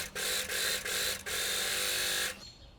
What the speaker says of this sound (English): let's take the back parts and overlock them at the center back